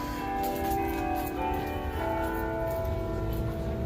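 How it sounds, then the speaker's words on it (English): Distant bell tower bells in Boulder City, Nevada, chime three o'clock with layered, sustained tones over steady outdoor ambience, the chimes overlapping and humming on. "Bells are going off."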